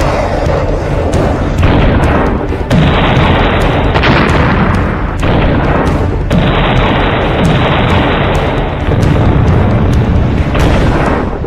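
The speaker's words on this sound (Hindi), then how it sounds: "पुतिन ने ओदेसा हमले के दौरान अपनी इस मिसाइल का बहुत ही खास वीडियो बनाया" Missile strike explosions during a Russian attack on Odesa: a loud, dense run of heavy booms and bursts, with repeated impacts over a constant rumbling roar and no talk.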